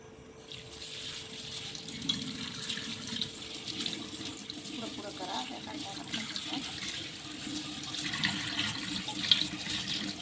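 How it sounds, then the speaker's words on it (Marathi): Water runs from a tap as rice is rinsed clean in a kitchen, a steady splashing stream with small clinks, moderately close and fairly quiet. "तर आता इथे मी तांदूळ स्वच्छ धुवून घेते"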